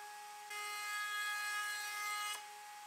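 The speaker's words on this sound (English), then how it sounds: "I set up a bevel bit in the router table and I'm going to need to make this cut in about 3 passes" A router table with a bevel bit takes one pass along a wooden board for a garden bench, a steady high whine that rises into a cutting roar for about two seconds before settling back to the idling motor.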